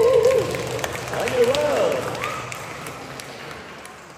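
An audience claps at a tribute and thanksgiving ceremony honouring MSC missionaries: a steady wash of applause with cheering voices mixed in, fading slightly toward the end, while someone talks over it.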